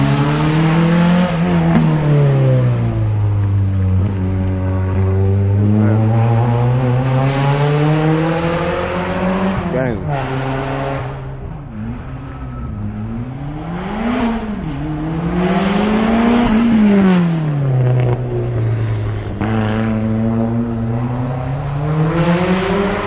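A race car climbs a hill climb course, its engine howling loud and near as it rises through the gears in repeated upward sweeps, briefly easing off before pulling hard again.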